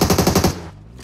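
Rapid automatic gunfire from PUBG Mobile, a dense burst of evenly spaced shots at a fast rhythm, loud and close, that stops partway and fades into a low ambient hum.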